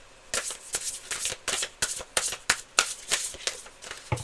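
A deck of tarot cards shuffled by hand up close, a steady run of crisp riffling snaps and flutters repeating in quick rhythm for several seconds, with no talking.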